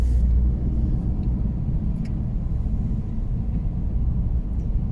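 Steady low rumble of a car being driven along a road, continuous and fairly loud, with no talk over it.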